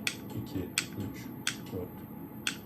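Mechanical clicks from a Felix retarder counting mechanism as its lever is pulled, four sharp, evenly spaced clicks about a second apart over a low background hum.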